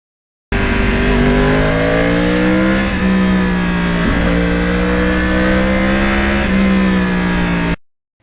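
Yamaha R1 crossplane sport bike engine roaring loud and close while riding, a continuous throaty drone that rises and falls through gear changes over about seven seconds before cutting off abruptly.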